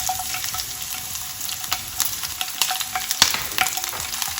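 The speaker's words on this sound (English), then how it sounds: "Once the oil is hot, I'm going to add the green chilies" Green chilies sizzle steadily in hot oil in a pan, a close, continuous hiss with scattered sharper crackles and spatters, no voices.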